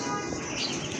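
Large pigeons cooing softly at close range in a brief low burr, over a faint background murmur.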